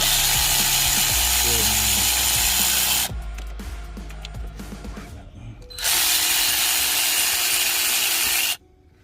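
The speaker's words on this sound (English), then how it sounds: "I already break them, so I'm using my ratchet" A ratchet loosens bolts on the transmission of a 2008 VW Passat 2.0 Turbo. Loud, harsh tool noise runs for about three seconds, drops to a quieter stretch, then returns before cutting off, with someone talking throughout.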